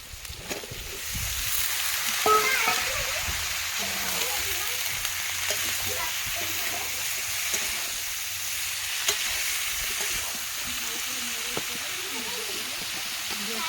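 Vegetables sizzle and fry in a hot pan in a home kitchen, a steady bright hiss running throughout with occasional stirring scrapes, while someone talks over it.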